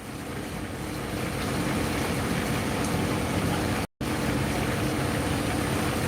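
A motorboat engine runs at full throttle near the Solomon Islands, a steady loud roar with wind and water rush throughout, briefly cut off once by a dropout.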